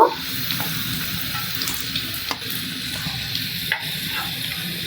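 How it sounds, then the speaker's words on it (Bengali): Stuffed kakrol (spiny gourd) fries in oil in a pan, turned over on all sides, giving a steady close sizzle with a few sharp clicks of stirring and turning, no voices. "সব দিক থেকে উল্টে পাল্টে ভালো করে ভেজে নিয়েছি।"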